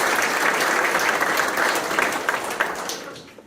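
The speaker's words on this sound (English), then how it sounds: "So big round of applause for you guys for stepping up" A crowd applauds with dense, steady clapping that gradually thins and fades out toward the end.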